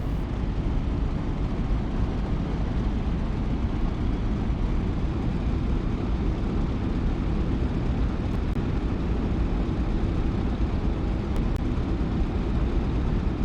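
A P-47D fighter's radial engine drones steadily and loudly while taxiing in the DCS flight simulator, a dense unbroken rumble held at low throttle for the whole stretch.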